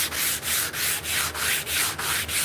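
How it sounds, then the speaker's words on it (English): Sandpaper rubs back and forth over a wooden cane to round it over, eight even rasping strokes in a steady rhythm, close and clear with no voices. "now I decided to kind of round it over with sandpaper"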